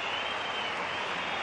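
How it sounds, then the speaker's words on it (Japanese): A stadium crowd roars in the rain at a Japan versus Brazil football match at Goodison Park, Liverpool: a dense, steady wash of cheering and noise, loud and unbroken, with no distinct voices. "ものすごい大歓声です。"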